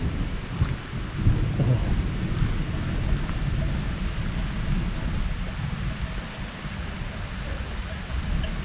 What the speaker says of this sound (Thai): โอ้ฝนไม่มีทีท่าว่าจะหยุดตกแล้วครับ